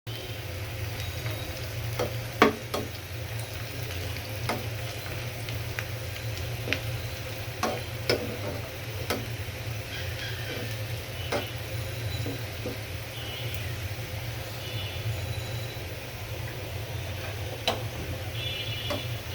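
Sliced onions fry in a pot with a steady sizzle while a spoon stirs them until brown, sending scattered light clicks and scrapes over the constant frying hiss.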